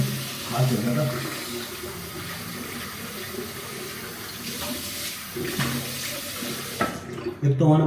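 Hot water runs steadily from a tap during handwashing, a continuous close splashing rush with slight changes in flow as the hands move under the stream.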